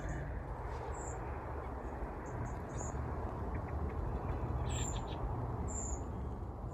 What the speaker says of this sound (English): There are fieldfare calling in the background,